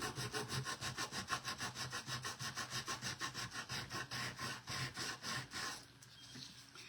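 Coarse 80-grit sandpaper rubbed back and forth over a wooden surface by hand, a steady rhythmic scratching of about twenty quick strokes close up, ending abruptly and leaving a quiet room.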